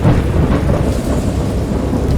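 Deep rolling thunder rumbles continuously through a heavy storm, with dense rain hiss over it, loud and close with no clear breaks.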